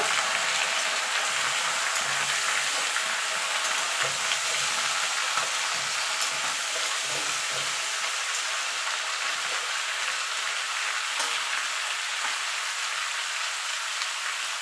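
Mixed vegetables with drumsticks and jackfruit seeds frying together in a pan, a continuous dense hiss like light rain, steady and even throughout with a faint low stirring rumble early on.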